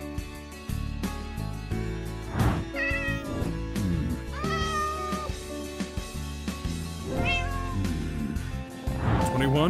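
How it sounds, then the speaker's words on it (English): A cartoon cat in a comic dub meows repeatedly over a steady background score, with voice-acted talk around it; the meows come in short rising bursts, fairly close and clear. "He's purring. That means he loves you."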